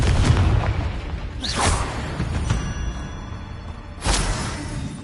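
Bombardo and Confringo spells go off in Hogwarts Legacy, several booming bursts with whooshing sweeps, loud and close, the final blast landing hard near the end over a rumbling background.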